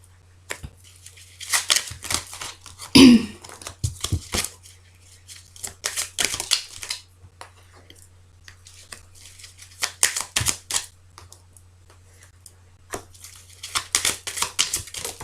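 Tarot cards are shuffled for a reading in close, irregular bursts of riffling and slapping, several flurries separated by quiet pauses.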